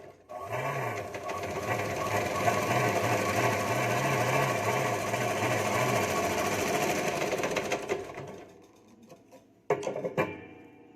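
A sewing machine stitches blouse fabric in a fast, steady whirring run that lasts several seconds. It then stops and gives a few brief clunks and clicks.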